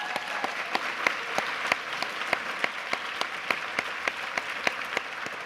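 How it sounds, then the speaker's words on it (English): Audience applause fills a brunch hall, a steady dense patter of many hands with sharper individual claps standing out at regular intervals, sustained and fairly even throughout. "I think that deserves a round of applause."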